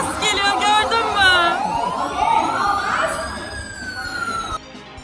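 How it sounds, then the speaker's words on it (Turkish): An ambulance siren sounding near a bird park, its wailing rising and falling tones clearly audible under a busy mix of nearby people's voices and chatter. "Ambulans geliyor."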